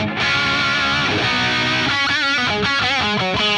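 Electric guitar played through an amp on its second channel with the saturation switch engaged, effects added from Pro Tools: a dense, distorted sustained chord, then rhythmic wavering, modulated strums, loud and continuous.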